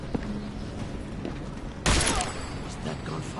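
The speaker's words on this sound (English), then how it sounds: "Was that gunfire?" A sudden loud burst of gunfire erupts partway through, over a busy background of Deus Ex: Mankind Divided game noise and faint voices.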